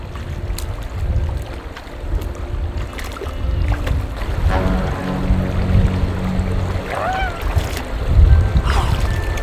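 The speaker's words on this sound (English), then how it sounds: "First, let me dip my feet to see if it's warm enough to even go inside the river." Feet dip and splash in a cold natural river, making soft watery sloshes over a steady rush of flowing water and wind noise outdoors.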